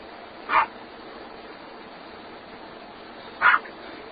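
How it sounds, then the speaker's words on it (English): Two short, distant dog barks about three seconds apart, faint against a quiet hiss. "They're barking and yapping."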